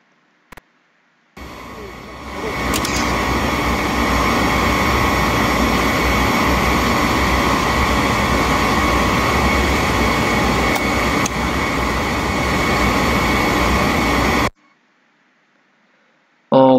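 Electric motor started through a wye-delta starter, kicking on abruptly after a click and running as a steady, loud broadband hum and whine for about thirteen seconds before cutting off sharply.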